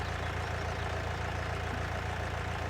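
A tractor engine idles steadily nearby, a low, even rumble with a constant chugging throb and no pauses or voices.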